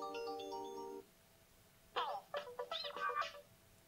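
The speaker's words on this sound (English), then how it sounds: "we can scroll through to hear all the different available ringtones" An Alcatel-Lucent 8018 desk phone plays two ringtone melodies, a steady electronic tone pattern followed by a brighter chirpy tune, clear and close.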